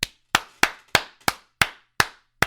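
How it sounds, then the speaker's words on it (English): Applause on a podcast comes as eight sharp, evenly spaced claps from what sounds like one or two people nearby, steady and unhurried, with silence between each clap and no talking. "That's a round of applause"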